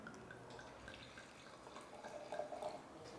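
Lugana white wine from the 2021 vintage is poured from a bottle into a glass at a winery, a faint, steady liquid trickle in a quiet room.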